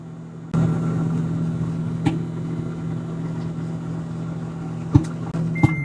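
A microwave oven melting butter hums steadily after switching on, a continuous close drone with a couple of sharp clicks or beeps near the end.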